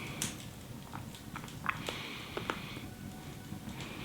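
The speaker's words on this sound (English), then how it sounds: "Probably gonna have to edit out some of my chewing." Someone chews a chewy chocolate-covered pineapple sweet close up, with soft, irregular moist bites and squelches over a quiet background and no talking.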